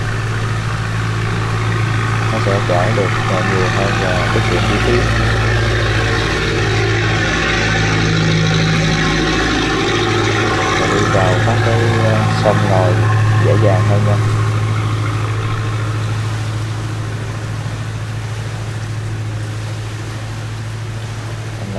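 A motorboat engine on a cargo boat carrying cement hums steadily at idle on a Mekong Delta waterway, a low continuous drone running under someone talking throughout.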